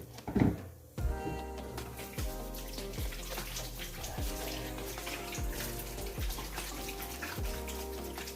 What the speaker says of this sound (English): I gotta wash my hands out of there.